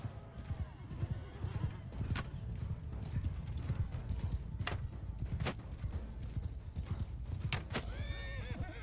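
Horses gallop through a Mount and Blade II: Bannerlord battle, with a continuous thudding clip-clop of many hooves, sharp impact cracks and several shrill whinnies rising above the din.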